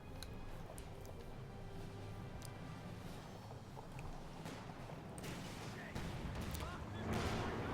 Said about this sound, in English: Got a ton of artillery shells landing.